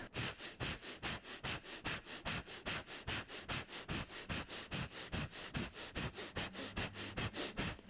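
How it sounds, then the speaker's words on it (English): Kapalabhati yoga breathing: a steady train of about two dozen sharp, forceful nasal exhales in quick even rhythm, close and fairly loud, with no talking. "For Kapalabhati breathing, you're going to forcefully exhale, snapping your abdomen back, just about 20 breaths"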